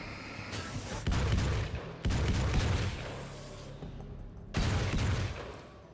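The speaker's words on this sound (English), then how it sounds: "Combat shotgun." A combat shotgun in Alan Wake fires three heavy booming blasts, each with a lingering rumbling tail, spaced roughly one to two and a half seconds apart.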